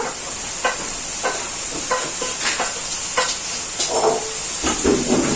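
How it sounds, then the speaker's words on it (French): Onions frying in a pan alongside mushrooms, a steady hissing sizzle with occasional spatula scrapes and stirs, close and fairly loud with no voices. "dans la poêle, là, on va y mettre les oignons"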